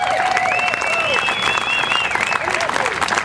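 A crowd at an outdoor Tea Party rally in Provo applauds veterans, a steady, dense wash of clapping with cheering whistles and calls rising over it throughout.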